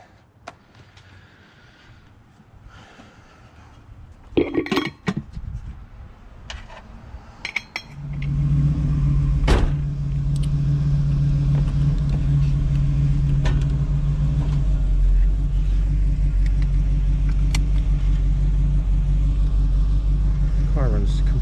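A few clicks and a starter crank, then the V8 engine of a 1986 Oldsmobile Cutlass 442 with a rebuilt Quadrajet carburetor catches from a cold start and settles into a steady, deep rumbling idle close by.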